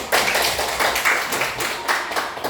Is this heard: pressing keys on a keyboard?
no